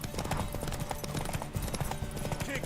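A horse in The Witcher 3 video game gallops with rapid, steady clip-clopping hoofbeats, close and fairly loud, over a dense game soundscape with voices talking.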